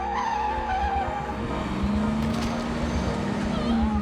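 A car circles back and repeatedly runs over a man, its engine droning steadily with a rising tire squeal and rumbling close by; loud and continuous, with faint voices mixed in.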